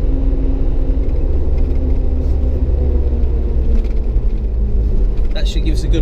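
Constant low engine rumble and road whir from inside a moving car on the road to a scrapyard, loud and steady, with a person talking over it.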